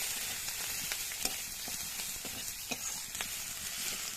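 Chili and turmeric powder sizzle in hot oil with fried ginger, a steady bright crackle with occasional sharper pops and stirring scrapes, close and alone with no voices.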